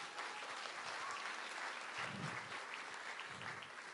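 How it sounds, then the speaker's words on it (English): A convention audience at SeaCon 2018 gives lukewarm applause, an even, unbroken patter of clapping from a crowd that holds steady and then slightly thins toward the end. "The applause was so tepid"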